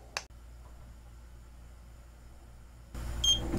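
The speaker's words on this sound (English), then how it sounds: "I heard a beep that time." A Tavool wall stud, pipe and electrical finder calibrating against a wall gives a single short, high beep near the end, after a quiet stretch broken only by a brief handling click.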